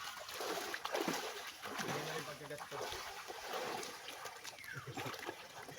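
Splashing water as people jump into a cool mountain-fed river, with broad bursts of splatter and sloshing close by under constant chatter and shouting voices.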